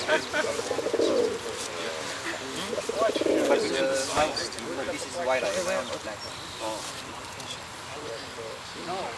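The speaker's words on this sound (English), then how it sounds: "These are just random birds." Pigeons coo in low, rolling calls a few times at a flying tippler pigeon lawn show, against a busy background of other birds and people talking.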